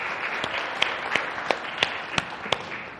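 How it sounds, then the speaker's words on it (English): Applause from attendees at a university talk comes across as a faint, steady wash of clapping. A few sharper individual claps stand out at an irregular rhythm. "And applause for the chairman too."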